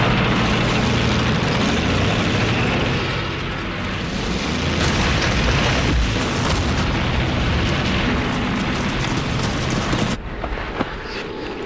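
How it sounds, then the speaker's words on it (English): A WWII Katyusha rocket launcher barrage thunders as a continuous dense roar of overlapping booms and rumbling explosions, loud and sustained, cutting off abruptly near the end. "with the rocket launchers they call Stalin's organs"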